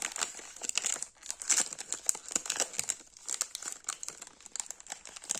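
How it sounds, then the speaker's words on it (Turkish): A Nesfit cereal bar wrapper being opened, with continuous crinkling and crackling plastic and a few small tearing rustles, close and with no talk. "Şöyle paketini açalım."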